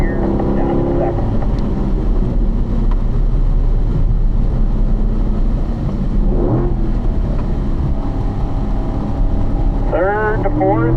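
Race car engine running loud and constant on a track, droning through gear changes with rising revs near the end, under wind buffeting and a voice coaching about gears and apexes.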